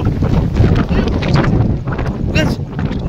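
Strong wind buffeting a microphone outdoors: a loud, continuous rumbling roar with gusty swells and no breaks, with faint voices under it.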